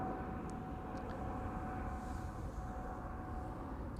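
An easyJet airliner departs Amsterdam Schiphol Airport, its engines a steady broadband roar that holds at an even level throughout, distant and unbroken.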